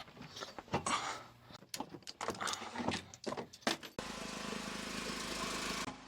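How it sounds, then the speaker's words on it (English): A portable welding generator, used on a boat trailer torsion axle install, starts up and settles into a steady, even engine drone after several seconds of clanking and handling noises nearby. "Generator's on."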